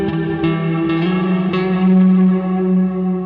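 An electric guitar runs through a Keeley Caverns V2 reverb and delay pedal, set for a very washed-out reverb. A few struck chords ring into a dense, sustained wash of trailing echoes, loud and continuous with no talking.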